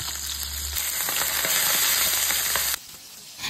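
Fish and squash fritters (kalabasang okoy) frying in hot oil give a steady, close sizzle with faint crackles, which stops abruptly near the end and leaves a quiet room.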